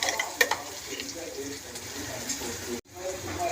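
Peeled garlic cloves stirred into oil over a low flame for a garlic pickle, soft sizzling with stirring and light pan scrapes close by, under a voice talking, with a brief break near the end.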